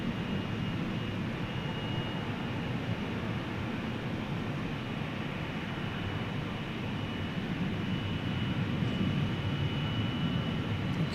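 Steady broadband roar of an airliner on a flight to London at DFW Airport at night, a continuous engine rumble holding even and loud throughout with no voices.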